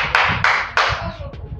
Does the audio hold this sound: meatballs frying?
no